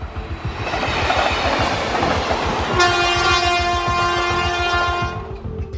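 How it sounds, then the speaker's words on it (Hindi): A train runs along the Patna–Gaya railway line with steady rumbling and clatter, then a long loud horn blast sounds in the second half, close and continuous. "ये नजारा है पटना गया रेलवे लाइन का, जहां से दिन रात एक्सप्रेस से लेकर लोकल और लोकल से लेकर मालगाड़ियां दौड़ती भागती रहती हैं"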